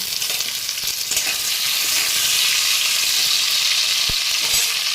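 Potato pieces fry steadily in hot oil for dhokar dalna, giving a loud, continuous sizzle heard close up, with a couple of soft knocks from the pan.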